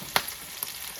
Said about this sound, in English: we're going to let it sear for a second,